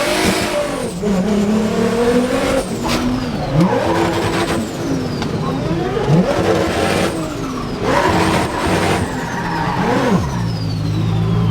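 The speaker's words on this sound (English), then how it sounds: "That's Lane Hurl with his Prospect Supra" A Toyota Supra race car on track at Ultrace revs loudly and close by, sweeping up and down through the gears with sustained engine roar and rising and falling pitch, with no talk.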